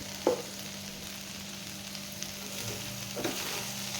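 Okra frying in a pan as coarse ground peanut powder is stirred in, a steady soft sizzle with a couple of faint spoon scrapes against the pan, no voices.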